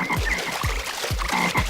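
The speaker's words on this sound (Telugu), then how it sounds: "బావిలో కప్పలు" Frogs croak from inside an old abandoned village well, their deep, resonant calls repeating about four times in a steady rhythm over a constant damp background hum, with no voices present.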